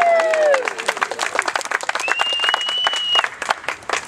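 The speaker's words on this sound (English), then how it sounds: "If you'd like to clap, it's okay." Wedding guests applauding and cheering during the ceremony, a lively burst of close clapping with a few raised voices and whoops mixed in.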